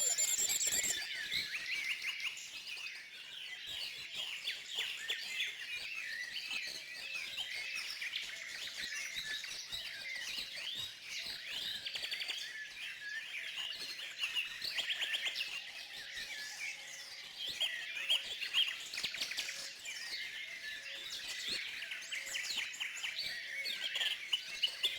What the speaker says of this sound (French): un merle noir avec un albinisme partiel